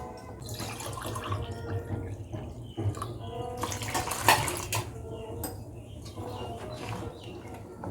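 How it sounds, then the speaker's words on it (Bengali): A mug of water is poured into a cooking pot while making mango kasundi, with splashing and clinking of vessels in a kitchen, fairly faint and irregular. "আরও এক মগ জল দিয়ে দিচ্ছে টোটালে চার মগ"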